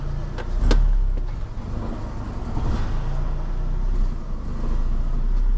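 Car engine running after a gearbox oil refill, a steady low idle hum close by with a few faint clicks and knocks layered over it.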